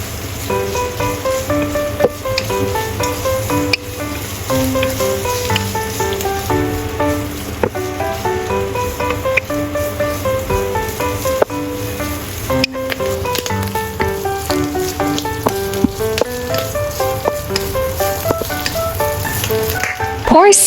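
Shredded carrot and black fungus stir-fry in a hot wok for Yu Xiang tofu. A steady crackling sizzle runs throughout under continuous background music.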